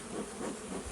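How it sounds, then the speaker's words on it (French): Honeybees hum in a steady, low buzz as a hive is opened for inspection, a brief, fairly faint drone with no voices. "Parce qu'en dessous, il va y avoir pas mal d'abeilles."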